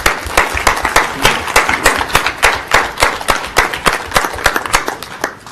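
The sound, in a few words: audience applause for committee members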